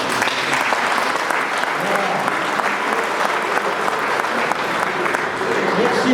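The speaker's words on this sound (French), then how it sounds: "bravo, je peux les applaudir" Loud, sustained applause from an audience at a classic car rally awards ceremony, dense and unbroken across the whole stretch, with crowd murmur mixed in.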